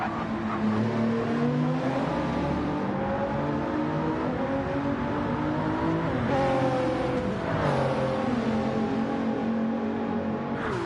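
GT3 race cars lapping Mount Panorama in a racing game, a steady loud engine drone with rising and falling revs and gear shifts, cars running close together down a long straight.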